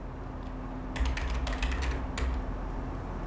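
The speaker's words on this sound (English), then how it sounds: "Enter the password that you've created." Keys tapped on a computer keyboard to enter a password, a short quick burst of clicks heard close over a steady background hum.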